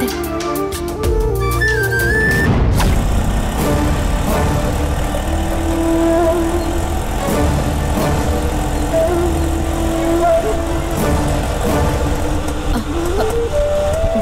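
A car engine hums steadily at medium pitch as the vehicle drives along, a continuous loud drone with music-like tones over it and no clear speech.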